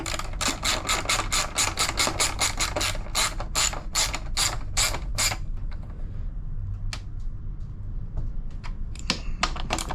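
A ratchet tightens bolts on a Honda EU7000 generator during servicing: a fast, even run of sharp clicks for about five seconds, then sparse scattered clicks and handling noise, close and distinct.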